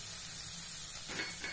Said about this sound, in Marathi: कांद्याचा हा पांढरा भाग सुद्धा आपण याच्यामध्ये शिजवून घेऊया